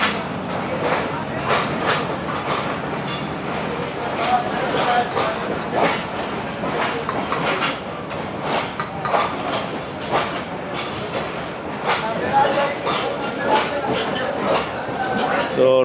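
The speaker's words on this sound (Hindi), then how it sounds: "9 अप अल्लामा इकबाल एक्सप्रेस को रोडी पर अराइवल हो रहा है इसका 2:05 पे" The Allama Iqbal Express pulls into Rohri Junction at night, with a continuous rumble and rhythmic wheel clatter filling the platform, while someone talks over it.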